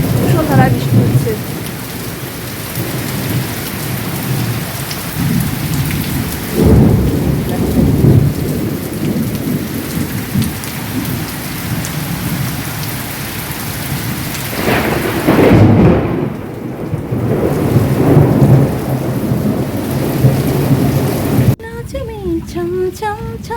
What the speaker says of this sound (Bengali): দেখো বন্ধুরা, শুধু আওয়াজটা দেখো একবার, ভীষণ ধারায় বৃষ্টি হচ্ছে